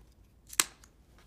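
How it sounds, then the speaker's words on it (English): Scissors snip a wooden pick off a pine cone in two short, sharp cuts, close and crisp against near silence. "After we've finished, we simply cut off the wood pick."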